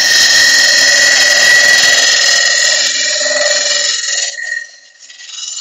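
Sharpened scraper cutting a lignum vitae bowl on a wood lathe, a steady loud whine with a high tonal ring that holds, then drops away near the end as the cut stops.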